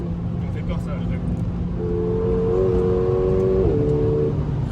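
A Mercedes-AMG A45 accelerates at full throttle on a track. The engine drone climbs steadily in pitch, with a brief dip near the end, and a person talks over it.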